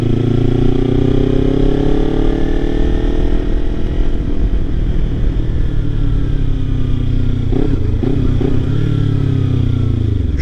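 A Kawasaki Ninja 300 motorcycle engine drones steadily while riding, loud and close with gliding pitch as revs shift, wind rush throughout and a few brief gear-change dips near the end.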